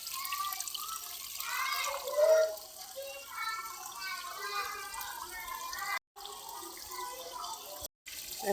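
Water runs steadily from a hose or tap onto garden plants in a soft, continuous hiss with faint splashing, broken by two brief drops in sound.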